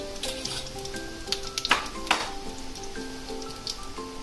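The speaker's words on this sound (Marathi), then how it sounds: "त्याच्यात घालते जिरं जरा जास्तच टाकायचं आपल्याला, थोडी मोहरी" Cumin and mustard seeds sizzling in hot oil for tempering leftover rice, a steady close crackle with a few sharper pops and spits standing out, no speech.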